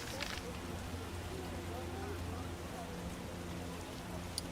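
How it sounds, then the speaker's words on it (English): Steady rain in The Witcher video game, a dense continuous hiss of falling drops with a faint tick near the end. "Run for your lives, it's raining."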